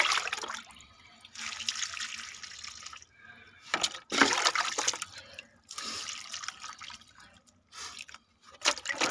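Water is poured from a bucket onto an aloe vera plant in a pot, coming in several splashing bursts with short pauses between them.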